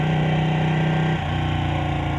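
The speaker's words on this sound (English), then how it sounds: "The bike sounds really good already." A Ducati Panigale 1299 sport motorcycle engine running at a steady idle, a loud, close, continuous low drone with a slight shift in tone partway through and no voices.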